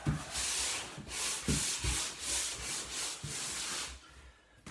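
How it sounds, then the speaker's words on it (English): Dulux Diamond Glaze floor varnish being rubbed onto a wooden floor by hand, a close, steady series of back-and-forth scrubbing strokes at an even rhythm, with no talking. "Rub it on. Rub it off."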